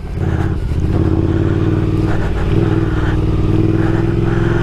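Scrambler motorcycle ridden off-road through boggy mud, its mid-pitched engine droning loud and steady up close with rough, pulsing revs and a bit of clatter, no voices over it.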